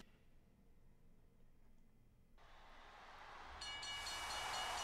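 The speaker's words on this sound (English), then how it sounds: "Oh, that's A train coming." A train approaches in the arena entrance of the PlayStation 2 wrestling game WWE SmackDown! Here Comes the Pain. A low rumble builds steadily into a loud rush of rolling wagons, and a bright horn-like blast sounds near the end.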